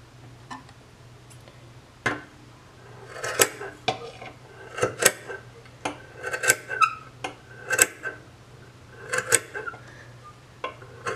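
Scissors trim the fringe ends of a corner-to-corner crochet scarf to even them, a string of sharp, close snips and clicks in irregular rhythm over a faint steady hum, with no talking.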